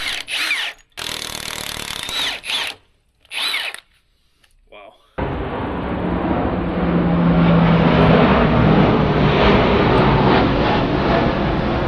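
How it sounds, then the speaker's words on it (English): A low-flying C-130 military transport aircraft roars overhead, a loud, steady broadband rumble that starts abruptly and swells as it passes. Brief voices come first, then the roar continues alone. "That was a super low C130."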